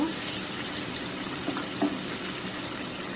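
Oil hits a pan of cooking shing fish curry with radish and sizzles in a steady, even hiss. Two brief clinks of utensils sound partway through, and no one speaks.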